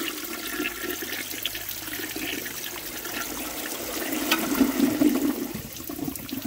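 A 1905 forward trap toilet of unknown make flushing: rushing, gurgling water that swells toward the end, close by and steady, with no talking.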